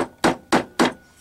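A dental crown is hammered into a 2x4 block of wood. Three sharp, evenly spaced strikes ring out close by, each decaying quickly, with no talk.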